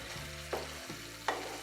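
Garam masala being stirred through methi mutton curry frying in a pan, with a soft, quiet sizzle and two distinct scrapes of the spoon.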